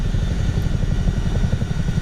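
A Chinook helicopter descending in a flight simulator game gives off a loud, steady rotor thump with a continuous engine drone, pulsing evenly throughout with no talk over it.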